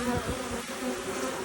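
Dense, steady buzzing of a crowd of honey bees swarming over a queen cell at an open hive during a walk-away split, close and continuous with no talk.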